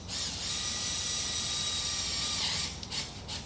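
A screw being driven down through an entry plate seated on putty into an RV roof during a solar installation, a steady whirring drive with a ratcheting buzz lasting about two and a half seconds before stopping, close and alone.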